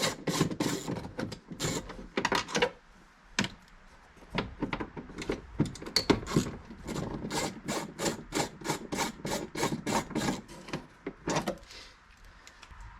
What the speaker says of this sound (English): So you just want to get in there, unscrew both of these.